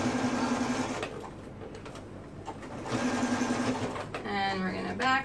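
A sewing machine stitches mesh shorts in short bursts of fast, steady mechanical whirring, close by, with pauses between runs and a brief backstitch at the end. A person talks quietly between the bursts.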